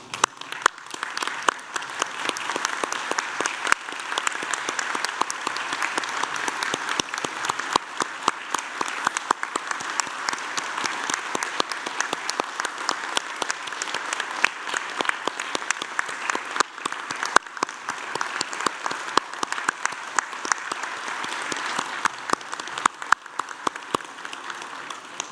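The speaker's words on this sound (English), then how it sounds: "join me, to stand and join me in applauding the wonderful achievement of our" A large audience at a University of Newcastle graduation ceremony applauds the graduates in a long, dense, even burst of clapping that fills the hall for about twenty-five seconds.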